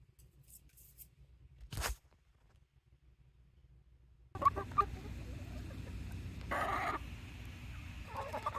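Buff Brahma chickens, a large breed, cluck in a short burst partway through and then keep up a busy, moderately loud clucking chorus after a near-silent start.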